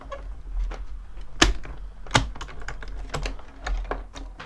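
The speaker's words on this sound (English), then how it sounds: "I'm just going to cut this out," Card paper is cut by hand for a handmade double gatefold card, giving a few sharp snips and paper crackles between quieter rustles.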